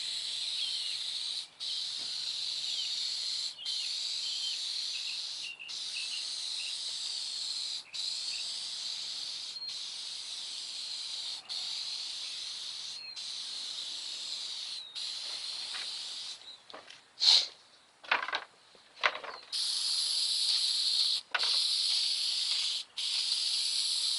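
Aerosol spray can laying down a heavy coat while bagging a VW MK6 GTI, a steady close hiss in long passes broken by brief pauses, with a few short clanks partway through.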